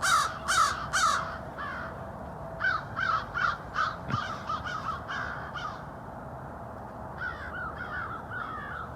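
A group of about ten crows perched around a hawk caw repeatedly in clustered bursts of harsh calls, loud and close, with brief pauses between volleys over a low outdoor background hum.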